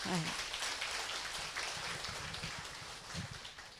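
A seminar audience at a weekend marketing-plan presentation gives a big round of applause, heard as a faint, distant, rain-like patter of many hands, with a low voice briefly underneath.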